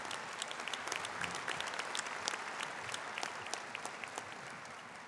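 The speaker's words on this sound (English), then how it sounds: "Let's give Raleigh another big round of applause for that wonderful rendition of our national anthem" Audience at a graduate commencement ceremony applauding after the national anthem, a soft, distant wash of many hands clapping with scattered sharper claps throughout.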